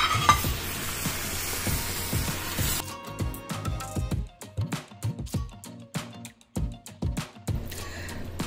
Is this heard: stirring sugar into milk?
yes